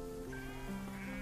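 A sheep bleats from a herd on open ranch land, one drawn-out wavering call heard close and clear over a soft outdoor background.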